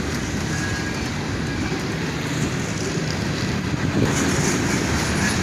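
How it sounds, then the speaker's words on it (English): Old CSX high cube boxcars roll past on a freight train, a loud, steady rumble of wheels and rail noise close by, with faint clickety-clack throughout. "And a pair of old CSX high cube boxcars."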